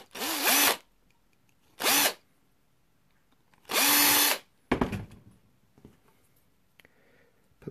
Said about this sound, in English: always forget to drill this one.